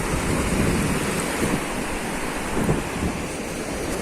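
Caspian Sea waves wash and roll continuously onto a shell-strewn shore in Azerbaijan, a broad steady roar with occasional surges, no voices.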